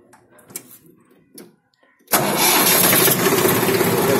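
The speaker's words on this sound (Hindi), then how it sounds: "अभी मैं आपको इसे स्टार्ट करके भी दिखाऊंगा।" A 1999 Mahindra 265 DI tractor with a replaced hydraulic pump cranks and fires, some faint clunks and handling noises first, then the diesel engine catches suddenly and settles into a loud, close, steady rumble.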